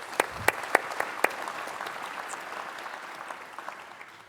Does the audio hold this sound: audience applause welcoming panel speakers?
yes